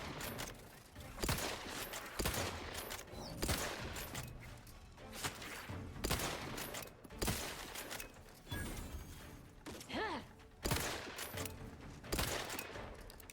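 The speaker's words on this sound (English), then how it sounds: "But I'm gunning it. And you're not gonna like my guns." Gunfire in the video game The Outer Worlds 2, with repeated loud bursts of rapid shots separated by short gaps over about thirteen seconds, plus a few metallic clanks and impacts.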